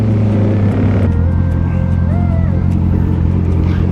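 Steady roar of road traffic heard from a moving Honda CB650R on a hot midday ride, a continuous loud engine drone with a few rising and falling tones from nearby vehicles.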